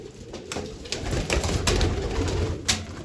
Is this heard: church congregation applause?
no